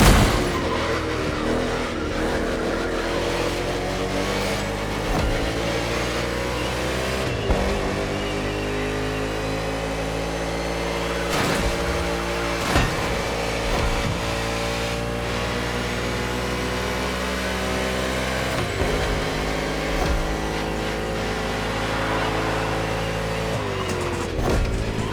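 NASCAR stock cars racing in The Crew Motorfest, a continuous loud roar of engines with rising and falling revs and sharp gear-change breaks, sustained throughout without speech.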